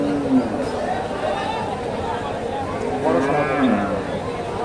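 Cattle lowing at a busy livestock market where Friesian heifers are being sold, several drawn-out moos rising over a steady crowd murmur and nearby talk.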